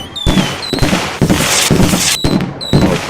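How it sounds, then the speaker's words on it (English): Fireworks exploding in The Universim video game, a run of loud, close bursts and crackling blasts with short sharp whistles between them. "Oh, fireworks."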